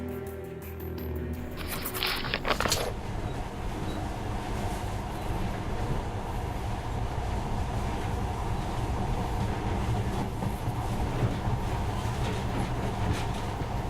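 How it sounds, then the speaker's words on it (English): Monorail train in Metro: Last Light Redux running steadily, a continuous loud rumbling rail roar with rhythmic rattling throughout, alone with no voices. "now, this monorail seems magic, doesn't it?"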